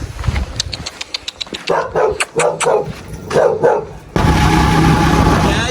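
A dog barks repeatedly and loudly nearby in quick bursts, then a steady rushing noise takes over.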